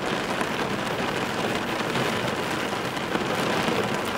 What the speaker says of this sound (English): We've been dealing with like the craziest weather, just like winter storm warnings, crazy thunderstorms.